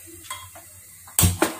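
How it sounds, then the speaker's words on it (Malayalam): A cooking pot is set down on a stove while rasam is being prepared, giving a sharp metallic clank with a short ringing tail after a few quieter kitchen knocks and scrapes. "പാത്രം വെക്കുക"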